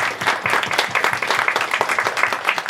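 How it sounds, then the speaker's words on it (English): An audience applauds a panel at a Norwich Pride talk event, dense rapid clapping from many hands at a steady loudness for a few seconds. "Let's give Andrew and the panel a big round of applause"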